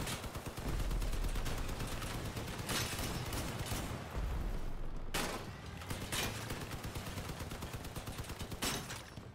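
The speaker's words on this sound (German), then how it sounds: "der schießt nämlich auch leider auf mich" Rapid bursts of automatic gunfire from vehicle weapons in the combat game Crossout, loud and continuous with sharp repeated volleys and heavier blasts, no talk.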